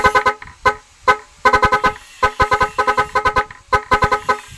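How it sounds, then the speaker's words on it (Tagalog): A newly fitted trendy horn on an Isuzu double cab pickup honks in loud, rapid bursts, a fast rhythmic melody of sharp toots with brief gaps between groups. "bagong uso ngayon na busina, nakatutok sa driver para walang manok-manok"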